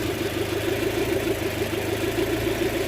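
A car engine idles with a misfire, a steady close mechanical hum carrying a rhythmic uneven pulse and slight stumble, heard on its own without talk.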